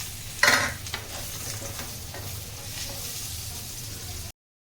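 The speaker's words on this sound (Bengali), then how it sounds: "এবার আমি আলুগুলো নুন হলুদ দিয়ে ভেজে নেব, সঙ্গে ঝিঙ্গেগুলো ভেজে নেব।" Potatoes and ridge gourd frying with salt and turmeric in a pan, a close continuous sizzle with a sharp burst of spitting near the start, then steady frying noise until it cuts off.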